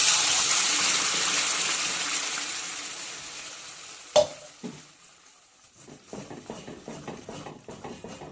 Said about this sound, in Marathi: आता ह्याचा थोडा कच्चापणा निघून जाईपर्यंत थोडंसं ह्याला फ्राय करायचे